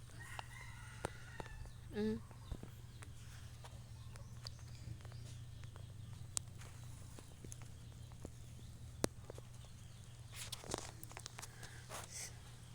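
Quiet outdoor ambience with a low steady hum; a rooster crows faintly in the distance amid scattered clicks and chicken sounds.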